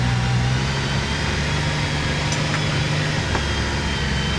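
A 2025 CFMoto U10 Pro UTV engine idles and runs nearby with a constant low rumble and hum, unchanging throughout, with no voices.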